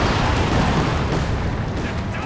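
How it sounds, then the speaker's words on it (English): A coordinated artillery barrage in the strategy game Company of Heroes 2: a dense, continuous rumble of overlapping blasts and booms that stays loud and steady throughout, with a commentator's voice mixed underneath. "This is the coordinated barrage again."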